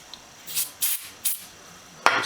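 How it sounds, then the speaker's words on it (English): Several short hissing bursts of carburetor cleaner aerosol sprayed close up onto ignition points of a 1976 Wheel Horse C120 tractor, separated by brief pauses, ending with a sharper final blast. "I'm spraying a little bit of carb cleaner on there."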